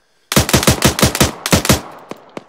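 Bursts of machine gun fire from a BRDM-2 armoured vehicle in the video game Arma: a loud, rapid rhythmic string of about a dozen close shots, a brief pause, then a few more and scattered fading reports.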